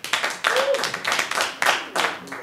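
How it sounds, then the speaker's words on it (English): Audience applause at a live comedy show, with clapping that swells in uneven bursts, mixed with crowd voices and shouts over roughly two seconds. "Round of applause."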